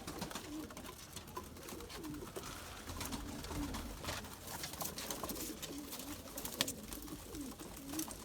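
Lemon pigeons coo repeatedly at close range, soft throaty calls recurring over a busy rustling background with no talking.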